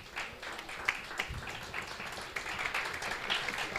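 An audience at a business workshop on pricing and credit management in Tlhabane claps in faint, scattered applause that continues steadily throughout, soft and somewhat distant.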